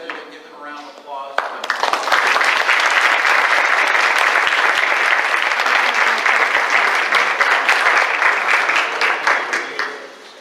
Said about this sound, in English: let's do all together to give them a round of applause